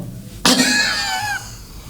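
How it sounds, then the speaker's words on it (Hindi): A single sharp cough bursts out suddenly in a comedic shop scene, then rings with a rough, drawn-out tail before fading, with nothing else around it. "पहले खांस लो फिर कहियो।"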